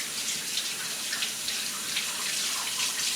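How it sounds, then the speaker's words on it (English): A water tap runs steadily into a sink while hands are washed, a continuous close hiss of splashing water with no break. "Now I'm going to go ahead and wash my hand off"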